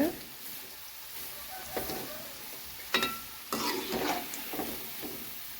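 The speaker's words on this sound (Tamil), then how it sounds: "இங்கே பாருங்கள் ஃப்ரெண்ட்ஸ் நல்லா பொறிஞ்சு வந்துடுச்சு ஒன்று ஒன்றும்" Cauliflower 65 deep-frying in oil gives a soft, steady crackle with a few sharper pops and bursts. The sound is fairly faint and close, with no talking.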